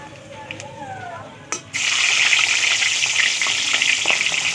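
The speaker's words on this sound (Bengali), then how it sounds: "আবারও যা মাছগুলো আছে একবারে তেলে পুরো সবগুলোই দিয়ে দেবে।" Rohu fish pieces drop into hot oil: after a soft clatter, a loud, dense sizzle bursts up and carries on steadily, close by, with faint crackles throughout.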